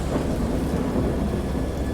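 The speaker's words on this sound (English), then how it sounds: "The rain is a little low quality in comparison to the graphics of the rest of the At game" Steady heavy rain with a low rumble of thunder in the VR horror game Dagon, a dense continuous roar that fills the whole stretch without any voices.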